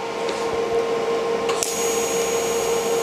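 TIG welding on a turntable sprocket, a steady electrical buzz with a sustained hum and a thin high whine, with a brief sharper crackle partway through, close and fairly loud, with no talking.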